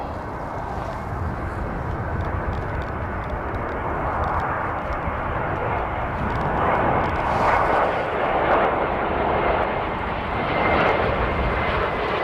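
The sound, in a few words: airplane landing in wind at Christchurch International Airport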